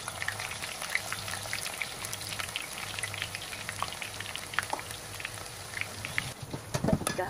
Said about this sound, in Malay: Goreng bawang.